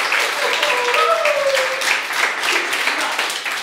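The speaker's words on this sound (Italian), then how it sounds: "Carlo Beltrami, un applauso" Audience applause for the winner of a cream-whipping championship on an Italian variety show, steady dense clapping throughout with some voices mixed in.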